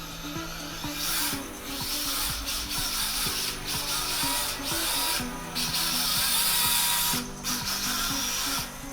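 A Rhino Racing mini 1/24-scale RC drift car runs with a steady, loud electric motor whine that rises and falls in stepped pitch as throttle is worked, with scraping, rattling tire and chassis noise throughout and no talking.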